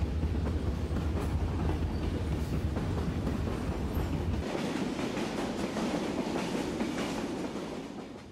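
An R.J. Corman freight train rolls past close by in Russellville, Kentucky, with a low rumble and repeated clacking of wheels on the rails that thins out toward the end.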